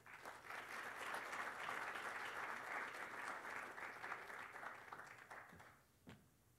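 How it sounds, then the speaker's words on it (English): A lecture-hall audience applauds a guest speaker at a university executive lecture, giving sustained, dense clapping that swells, holds for several seconds and then tapers off, ending with a brief final clap. "Let's give Lance a round of applause."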